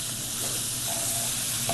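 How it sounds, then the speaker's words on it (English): Sausage and shrimp for shrimp and grits sizzle in a pan, a steady dense frying hiss with faint stirring scrapes, close and fairly loud, no voices. "Can you guys hear it sizzling?"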